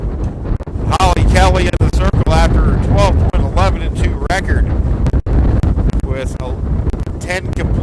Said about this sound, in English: it is just crazy windy out here